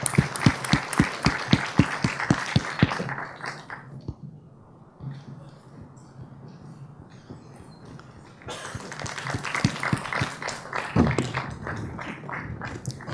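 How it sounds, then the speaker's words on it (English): An audience at a career-event panel session applauds in two bursts: sharp, closely spaced claps open loudly, fade into a quieter hushed stretch, then the clapping swells back up near the end. "Please give a big round of applause."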